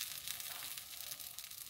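Black bean burgers sizzle in a hot pan, a faint steady hiss of frying with no speech over it.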